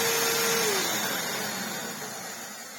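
A Samsung SU-2911 Jet Propel vacuum cleaner runs after restoration, with no filters fitted. Its loud, steady broadband roar fills the clip alone. An early whine drops in pitch as the motor settles, and the roar fades slightly over the clip.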